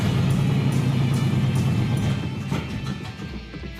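The engine of a Peterson Chieftain race car rumbling loudly and steadily nearby, then easing off slightly toward the end, with no talking.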